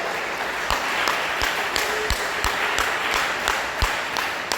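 Church congregation claps joyfully in steady rhythmic time, evenly spaced sharp hand claps repeating over a constant room wash, moderately loud and continuous.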